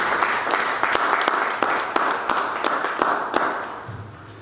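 A church congregation claps in praise, a run of sharp regular hand claps at a steady beat with a loose, roomy crowd feel, the clapping easing off near the end.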